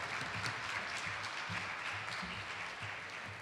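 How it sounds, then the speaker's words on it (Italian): An audience claps steadily at a Junior Stars event at the Emisfero in Bassano del Grappa. The dense, even applause is fairly faint and distant, with no voices over it. "Un applauso, grazie."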